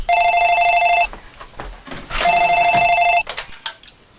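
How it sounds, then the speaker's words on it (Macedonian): A telephone bell rings in two long bursts with a pause between, loud and close, followed by brief clattering sounds. "Чекай да станам, звони телефонот"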